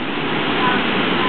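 Floodwater pours fiercely into an overwhelmed drain during a 2009 flood in Acworth, Georgia, a loud, steady waterfall-like roar that fills the whole moment without pause.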